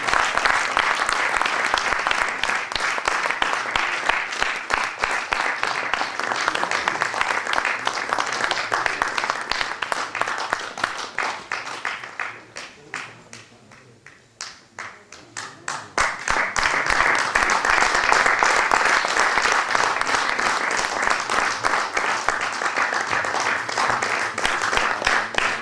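A reunion gathering's audience claps continuously for over twenty seconds, a dense even wash of applause that briefly thins and softens midway before swelling back to full strength.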